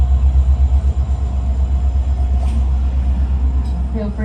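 An Alaska Railroad passenger train passes close by with a loud, steady low rumble of wheels and cars, and a few faint clicks above it.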